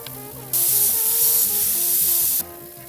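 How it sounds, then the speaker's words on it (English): Steam cleaner blasting a platinum wedding band at a jeweler's bench: a loud, steady hiss of steam starts abruptly, holds for about two seconds, then cuts off sharply, with background music playing throughout. "Taking it out of the cleaner, we're going to steam it off."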